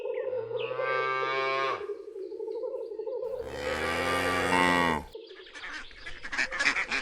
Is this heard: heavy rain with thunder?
no